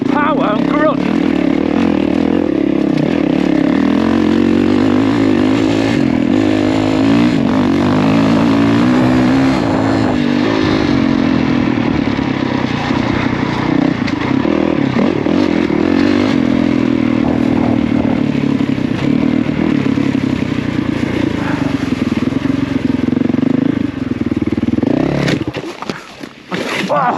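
A 450 enduro motorcycle, racing in Wales, climbs steep ground with its engine revving hard and continuously close by. The revs rise and fall with the terrain, clattering over rough ground, and a rider's voice comes through faintly underneath.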